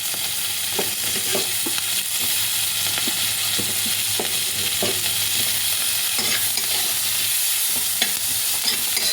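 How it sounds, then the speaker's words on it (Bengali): Onions and capsicum sauté for paneer chilli in a steady, close frying hiss, with irregular light scrapes and clicks from stirring throughout, and no talking. "জাস্ট একটু সটে করে নেবো।"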